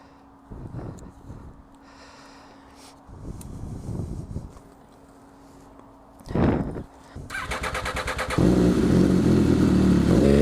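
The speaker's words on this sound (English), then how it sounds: "let's give this thing a blast up the bypass" MV Agusta F3 motorcycle starting up and revving: a few short blips and throttle bursts, then a loud, close engine roar rising in pitch and holding steady toward the end.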